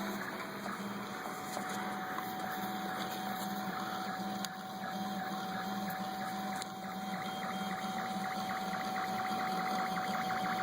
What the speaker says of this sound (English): you can see in action our Felix 3D printer